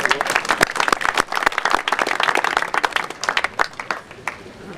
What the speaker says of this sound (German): Herzlichen Applaus für unsere Bezirkshauptfrau